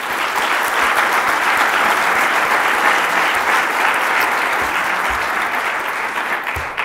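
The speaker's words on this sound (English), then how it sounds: "so a round of applause for them." A conference audience applauds steadily, a dense wash of clapping hands that holds evenly for several seconds before starting to thin at the end.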